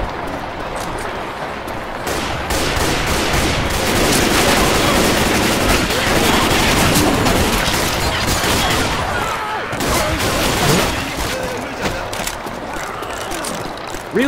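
Rapid, continuous gunfire from the video game Left 4 Dead 2, dense bursts of automatic shots filling the whole stretch, loud and close, with players' voices calling out faintly underneath.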